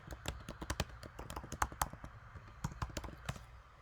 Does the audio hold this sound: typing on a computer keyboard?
yes